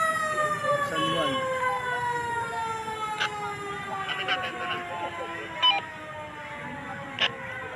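A fire truck siren at a fire wails continuously, its pitch sweeping slowly, loud and close, with voices and scattered clatter underneath.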